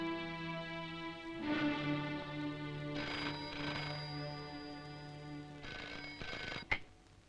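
Old-style telephone ringing in a 1971 Indian film scene, a steady electric bell tone repeated in bursts with background music and no talk.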